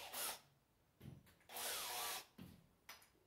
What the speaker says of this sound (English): We'll drill into the sacrificial piece